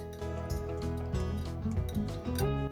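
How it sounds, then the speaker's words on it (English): Home-canned potatoes cut up in a kitchen produce a run of soft, close, irregular clicks and squishy cuts over a steady background hum. "But I want to cut them up first."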